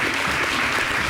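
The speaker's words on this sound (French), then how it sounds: "Recevez avec moi, sous vos applaudissements, Danielou Sabouan." Loud, dense applause from a live studio audience welcoming a guest on a Beninese TV show, continuous clapping throughout.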